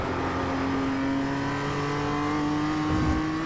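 A Mazda MX-5 lapping a bumpy race track, its engine droning steadily at a sustained mid-range pitch with a rising tone, loud, close and continuous with no talk.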